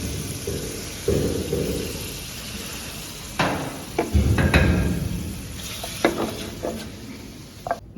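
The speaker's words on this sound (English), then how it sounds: "In the same pan, I am going to add some oil and saute the lamb." Lamb browning in hot oil in a pan, with moderate sizzling, stirring clatter and a few sharp utensil knocks against the pan, all without voices.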